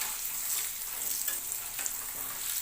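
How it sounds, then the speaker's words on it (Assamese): Raw green banana pieces fry in hot oil, producing a continuous bright crackling sizzle with a few sharper pops, close and even throughout. "কাচকলখিনি কিন্তু ভালকৈ ভাজিব লাগিব"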